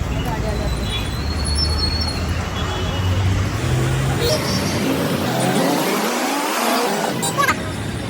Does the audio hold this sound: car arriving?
yes